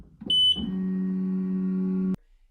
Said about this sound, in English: I hate how loud the beep is when the S1 is prompting you to push the button down here